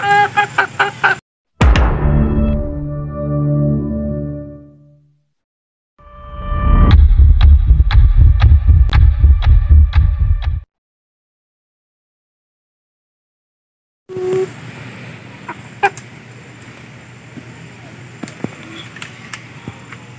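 A Darag native rooster crows in a loud, close call, followed by a series of throbbing, pulsing bursts and then quieter background clatter, with silent gaps between the sections.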